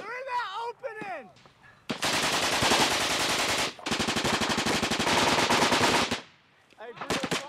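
Sustained automatic gunfire during combat, loud and close, in two long rapid bursts separated by a brief gap, with shouted voices and a whistling sound before and after.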